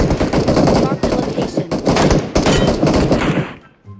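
Rapid automatic gunfire in PUBG Mobile, loud and close, in dense sustained bursts that cut out near the end.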